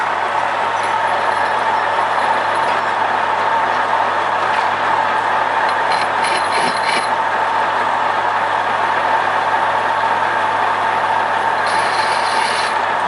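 A 1M61 lathe runs steadily while a threading tool cuts thread in a coupling, a constant loud mechanical hum and whine with faint intermittent rattles layered over it.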